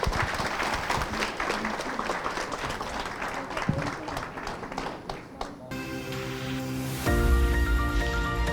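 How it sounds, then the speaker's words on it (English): Conference audience at the LAMBCON 2024 inauguration on lactation management and milk banking gives a sustained round of applause, a dense crowd clapping for several seconds before music takes over. "Very big round of applause for ma'am."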